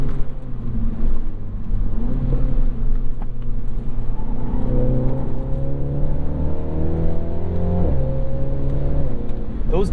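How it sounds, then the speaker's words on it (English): A 2022 Mini JCW Convertible with an 8-speed automatic in manual sport mode accelerates hard, its engine droning loudly and rising steadily in pitch, with abrupt gear changes cutting in sharply, heard close and alone without talk. "Those gear changes are so aggressive when you're in sport mode."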